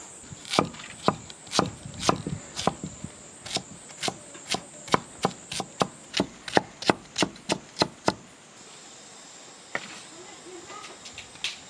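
A knife chops rattan shoots in a fast, steady series of about twenty crisp, close strikes on a board, then stops, leaving quiet insect chirps in the background.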